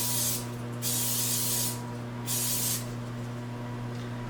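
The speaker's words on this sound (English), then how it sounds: "I've sprayed my wooden spoon with some spray so that it doesn't stick" Non-stick cooking spray hisses from a can onto a wooden spoon in a kitchen, two distinct close bursts of about a second each separated by a pause, over a steady low hum.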